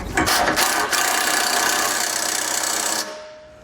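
A power impact wrench fitted with a 16mm socket snugs down bolts on a Roadmaster Direct-Connect base plate kit on a 2017 vehicle, giving a loud, steady, buzzing burst for about three seconds before cutting off.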